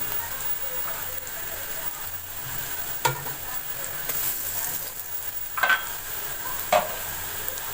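Ingredients fry in a pot for chana pulao, a steady rain-like sizzle running throughout, broken by a few sharp stirring knocks from a spoon against the pot.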